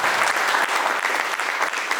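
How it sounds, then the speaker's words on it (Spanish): An audience applauds at a book presentation in Cochabamba, a steady, dense burst of clapping that fills the room without pause. "Fuertes los aplausos."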